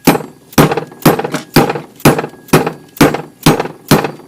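Metal part being tapped onto a Denso 6E171 AC compressor from a Porsche 928, a steady series of nine sharp, loud hammer-like knocks roughly every half second, close by with no talk.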